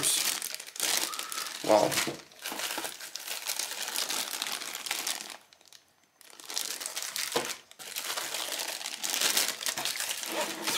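Thin plastic packaging crinkles and crackles in bursts as six model figures of German soldiers and a 7.5 cm infantry cannon are unpacked, with brief pauses and someone speaking once.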